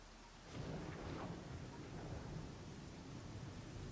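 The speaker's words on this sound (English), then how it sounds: "Huh, lightning." Thunder rolls with steady rain from a storm in the fantasy video game Pathfinder: Kingmaker, a low rumble swelling in and holding as a continuous wash of rainfall.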